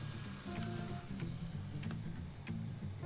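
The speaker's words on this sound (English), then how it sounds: "Going to add some onions. All right, so we're just gonna let that saute" Onions saute in a pan while cooking a healthy meal for kids, a soft steady sizzle with a few faint crackles, quiet and close, with no speech over it.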